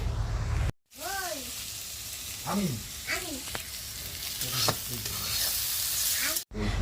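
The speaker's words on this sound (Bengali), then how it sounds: "দিয়ে দিলাম পরিমাণ মতো লবণ হলুদ দিয়ে ভালো করে নেড়ে ছেড়ে এই যে ভেজে নিচ্ছি" Chopped onion and garlic fry in a pan with salt and turmeric while being stirred, giving a steady close sizzle with a few brief swooping tones over it.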